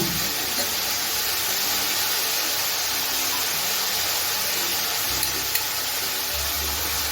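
Drumstick flowers with mustard paste, green chilli, turmeric and salt sautéing in a pan, giving a steady, even sizzle and hiss throughout with faint stirring scrapes near the end, no talking.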